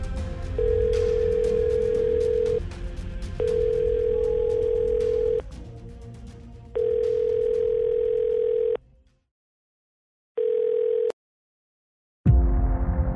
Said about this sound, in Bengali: এক বিন্দু কাল বিলম্ব ব্যতীত তক্ষুনি অ্যাম্বুলেন্সে ফোন করে ও।